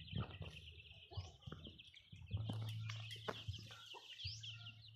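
A hen clucks in short repeated bursts, close by, with chirps of chicks and other birds mixed into the background.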